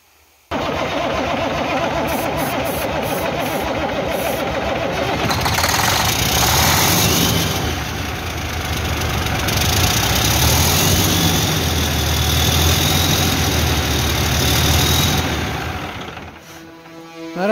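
A diesel engine cranks and labours to start, a steady, loud mechanical churning that runs for about sixteen seconds before cutting off abruptly.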